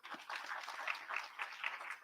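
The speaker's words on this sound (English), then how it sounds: "Can we just give Brian a round of applause?" Audience applause for a speaker at an International Day of Democracy fellowship launch, a short burst of steady crowd clapping, fairly faint and distant, with no talk over it.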